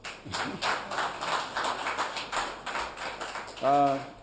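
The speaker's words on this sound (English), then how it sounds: "you can clap for them" An audience claps at an education briefing, a scattered run of hand claps carrying on steadily; a voice cuts in briefly at the end.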